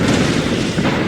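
Cannon fire in a Crusader Kings Total War battle game, heard as one dense, sustained rumbling boom that fills a short moment with low, loud roar and no speech.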